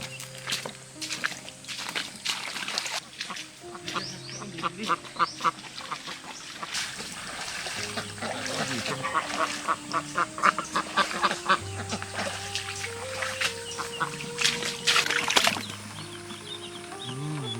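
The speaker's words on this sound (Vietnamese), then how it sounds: "Có rất nhiều vịt mình lấy luôn." Farm ducks quack steadily in a busy flock, with repeated nearby calls, shuffling footsteps and some background bird noise throughout.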